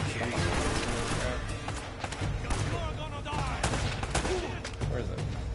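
Bursts of gunfire from combat in the video game Uncharted: Drake's Fortune, rapid repeated shots and crashes over several seconds, with players talking over the action.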